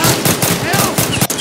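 Small pistol gunfire in a video game, a loud rapid string of close shots repeating about every fifth of a second, with no talking over it.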